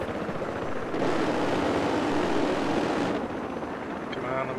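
Helicopter in the Battlefield 4 video game, a loud, continuous whirring roar that swells in the middle and carries on throughout, with some game noise beneath.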